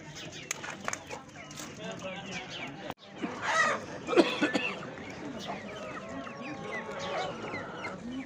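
Roosters cluck and call nearby at a poultry market, several birds overlapping in short bursts, with people talking in the background.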